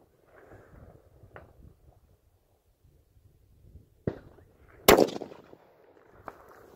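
A few sharp, loud gunshots fired one at a time while zeroing a rifle optic, the strongest near the middle, with faint rustling and handling noise between them.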